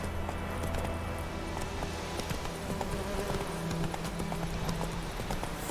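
Roach the horse galloping in The Witcher 3, hooves clip-clopping in a quick steady rhythm, fairly faint under a low ambient bed, no talk.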